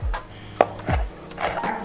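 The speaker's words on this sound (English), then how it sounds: "we're going to start by chopping our celery" Celery and green bell pepper being chopped with a knife on a cutting board, several irregular knocks of the blade against the board, close and crisp, with no voices.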